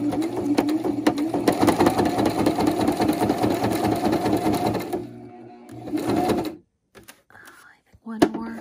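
Sewing machine stitching through a handmade insect slider card, a rapid mechanical chatter running for about five seconds, then short bursts of stitching with pauses, with quiet talking in between.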